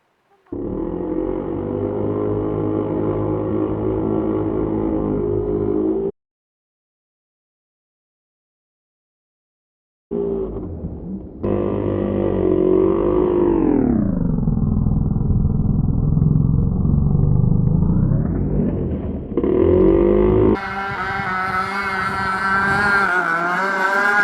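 Gas-powered RC boat engine running loud and close with a buzzing drone, cutting out for a few seconds, then restarting and sweeping down and back up in pitch as the throttle changes.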